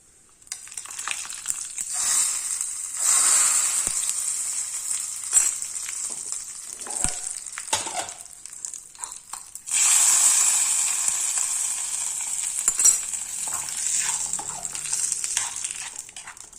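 Tempering for a chutney sizzles in a hot pan, a steady bright hiss that swells loudly twice, with small crackles and a few faint clinks of a utensil.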